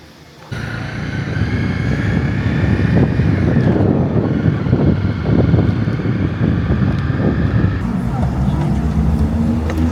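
Motorcycle on an evening ride, a steady loud engine drone mixed with rushing wind buffeting the microphone, starting abruptly and holding throughout.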